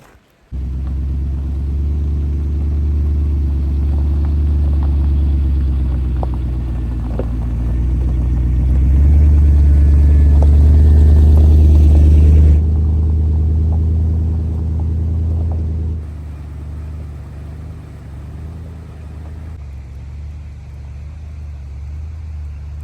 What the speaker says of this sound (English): we're just gonna get in the truck and head on in